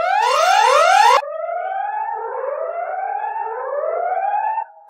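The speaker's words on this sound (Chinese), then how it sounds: "快拉响警报！" An emergency siren sounds a top-level monster invasion warning in a post-apocalyptic drama: loud, rapidly rising wails at first, then slower, steadier sweeping tones that continue to the end, with no talking.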